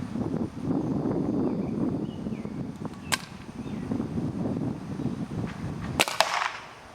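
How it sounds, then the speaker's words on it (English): Frozen paintballs fired from a paintball gun at a heavily padded target, with two sharp cracks about three seconds apart over steady wind and background rumble, the second followed by a brief rattling tail. "So I'm just gonna shoot a couple more at him just so you guys can see"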